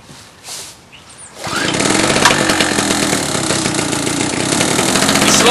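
A 909 Tools G800 petrol generator gives a few quiet attempts, then catches and roars up to a loud, steady running drone up close.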